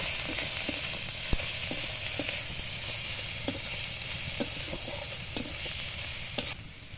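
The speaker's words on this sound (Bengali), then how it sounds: "পরিমাণ মতো লঙ্কা গুঁড়ো, স্বাদ মতো লবণ দিয়ে এবার নেড়ে চেড়ে মশলাটা ভালো করে কষিয়ে নেব।" Chili powder, turmeric and salt stir-frying with spices in a pan, a steady sizzle under repeated scraping and stirring strokes of a spoon at an even rhythm, close and moderately loud.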